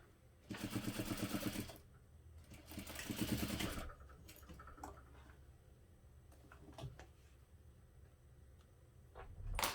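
A sewing machine stitches a clutch seam in two close, rapid bursts of about a second each, followed by quieter handling clicks and rustles of fabric.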